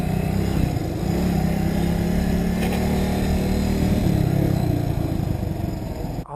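A Kawasaki W175 SE motorcycle from 2020 is being ridden, its small single-cylinder engine holding a steady, loud, throbbing drone with wind rush, without speech, easing off at the very end.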